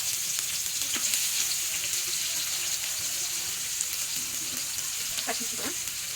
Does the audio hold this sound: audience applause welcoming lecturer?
no